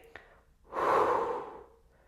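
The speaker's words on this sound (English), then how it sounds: "We breathe out" A long, breathy exhale during a Pilates posture exercise, swelling in the middle and fading out slowly, close to the mic after a brief sharp intake.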